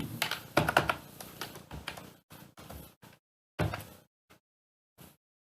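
Bursts of keystrokes on a computer keyboard while Java code is typed, coming in uneven clusters with short pauses and a few isolated taps near the end, close and clear with no talking.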